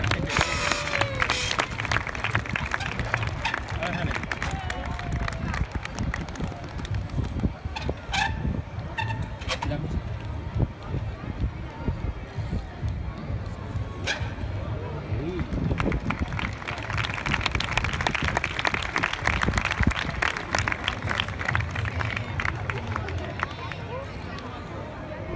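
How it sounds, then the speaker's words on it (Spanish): A crowd applauds and cheers a BMX rider at a BMX Bandits event in Zaragoza, a continuous clapping roar with babble, swelling toward the end while a voice shouts over it. "¡Aplauso!"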